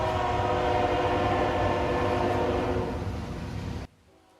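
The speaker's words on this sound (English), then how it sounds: "Oh, that train's loud." A loud train rumbles past in the American Truck Simulator driving game, a dense sustained roar with horn-like tones that fades slightly before cutting off abruptly near the end.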